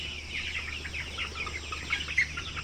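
Coloured broiler chickens, 31 days old, cluck and chirp on a poultry farm, a continuous flock murmur with a couple of sharper calls near the end, no talking.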